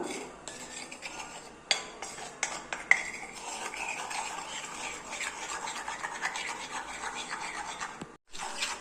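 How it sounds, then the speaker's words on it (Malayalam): Henna and amla powder being stirred with water into a thick hair-dye paste, a steady scraping and clinking of a spoon against a bowl with brief sharper knocks, close and continuous, no talking. "ഒഴിച്ചു കൊടുത്തതിന് ശേഷം ഇത് രണ്ടും കൂടെ നമുക്ക് നന്നായിട്ടൊന്ന് മിക്സ് ചെയ്ത് കൊടുക്കാം"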